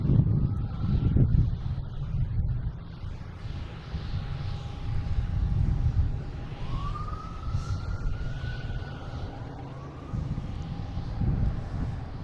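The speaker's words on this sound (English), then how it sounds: "Next, taking off, some American Airlines heading to Indianapolis" An American Airlines Embraer E175 jet takes off at Boston Logan International Airport, its engines a steady, fairly distant roar with a rising whine, heard continuously over outdoor airport background noise.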